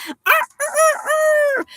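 A rooster crowing sound effect, one loud, close cock-a-doodle-doo with a few short clucking notes leading into a long drawn-out final call.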